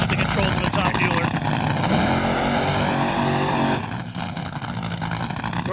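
A 1995 NHRA Top Fuel dragster roars through its burnout at the Winston Select Finals, a loud continuous engine blast that drops off slightly near the end, with crowd noise and commentary mixed under it.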